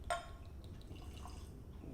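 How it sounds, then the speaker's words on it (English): Tequila poured over ice into a glass, a short liquid splash and trickle close by against a steady low room hum, with light dripping after. "I'm gonna pour you a little one"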